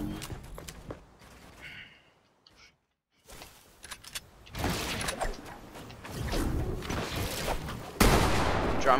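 Rapid bursts of drum gun fire in the video game Fortnite, loud and dense after a brief quiet gap, mixed with clattering game mechanisms and footsteps.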